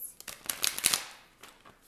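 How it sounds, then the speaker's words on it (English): Quick riffling shuffle of tarot cards, a burst of crisp papery flutters followed by a few softer taps as the deck settles. "shuffle once, cut twice"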